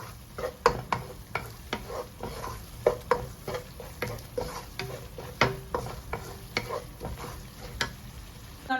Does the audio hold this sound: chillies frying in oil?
yes